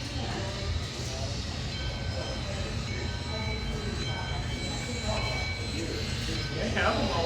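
A train at a historical railroad museum in Florida rumbles steadily on the rails, a continuous low rolling noise close by that swells slightly near the end, with people talking faintly underneath.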